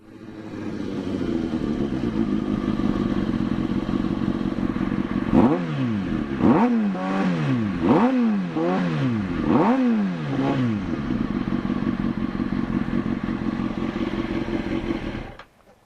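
A motorcycle engine idles steadily, then revs sharply four or five times in quick bursts before settling back to a steady idle.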